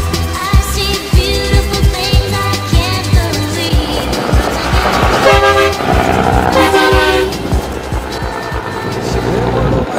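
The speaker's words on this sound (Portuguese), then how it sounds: "essa buzina de trem aí" Loud, blaring train-style horn blasts with rich multi-tone harmonics sound in bursts from a 2010 car over a rumbling engine and clattering, rolling noise.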